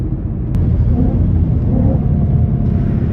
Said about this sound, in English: Downshifts always nasty, man.